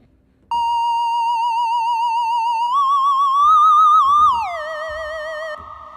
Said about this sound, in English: If we search theremin, okay, we got something here. Space theremin.